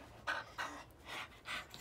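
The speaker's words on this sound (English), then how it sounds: "You panting?" A dog pants on a hot day outdoors, four or five breathy rasping huffs in a steady rhythm, close but soft.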